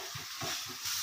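Onions and curry leaves fry in a pan for an egg dish, giving a steady, close hiss with soft low thumps of stirring throughout, no voices.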